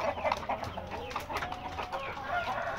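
An Indio Gigante hen clucks softly at close range during feeding, with scattered short fowl calls over a busy background of rustling and pecking.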